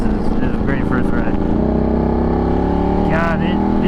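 A Ducati 1199 Panigale motorcycle roars under its rider, a loud close engine drone with rising and falling pitch as it accelerates and shifts, with wind noise and a voice talking over it.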